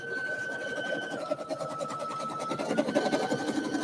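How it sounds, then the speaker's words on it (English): An embroidery machine stitches a design onto a shirt, heard close: a fast, steady mechanical patter with a sustained whine running throughout, growing busier toward the end. "Here's the design stitching out."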